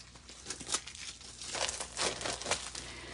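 Plastic packaging on a card-making kit crinkles and crackles up close, with uneven bursts of rustling and faint tearing as it is opened over a few seconds, and no talking.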